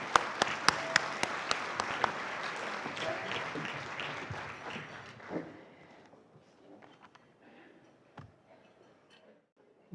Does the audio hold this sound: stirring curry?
no